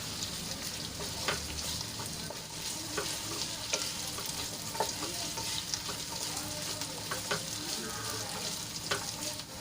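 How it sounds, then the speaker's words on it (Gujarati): Potatoes sautéing in oil for sabudana khichdi, a soft, continuous sizzle with frequent light clicks and scrapes from stirring, heard up close at moderate volume for about ten seconds, no talking. "અને તેલમાં થોડી વાર માટે સાંતળી લઈશું એકથી બે મિનિટ આપણે આ રીતે હલાવીને એને સાંતળી લઈશું"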